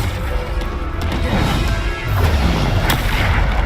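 Spell impacts during combat in the Hogwarts Legacy video game, loud dense booming crashes and thuds that roll continuously close up, with a heavier hit about two seconds in.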